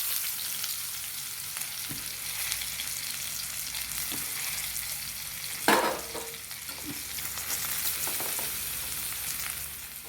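Finely chopped beetroot fries in a pan for a chutney, giving a steady broad sizzle with a few scraping stir strokes and one sharp louder clatter near the middle, close and without talk.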